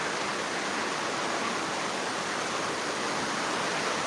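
Heavy rain pours down outdoors in a dense, unbroken hiss, loud and even from start to finish with no voices.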